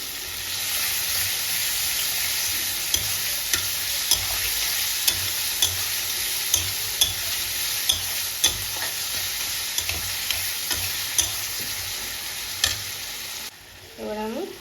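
Ginger-garlic paste sizzling and frying in hot oil for a Bengali cabbage chorchori, a steady close crackle with regular scraping stir strokes, ending in a brief quieter moment.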